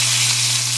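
Lamb steak sizzles while frying in a pan, a loud, close, steady hiss and crackle lasting under a second.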